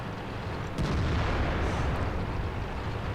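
A tank's cannon fires in World of Tanks, the Ru 251 light tank on the Karelia map: one heavy boom with a rumbling low tail, close and loud over steady engine drone.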